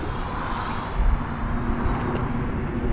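An E-flite Viper 90mm EDF RC jet with one notch of flaps makes a touch-and-go, its electric ducted fan giving a loud, continuous whooshing roar with a brief low bump near the middle, and nobody talks.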